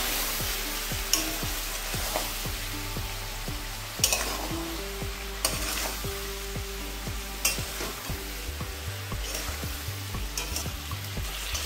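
Ground cumin, coriander and red chili powder frying in a pan for an egg curry made without water, with steady sizzling and repeated scrapes of a stirring spoon, heard close up against a faint tonal background.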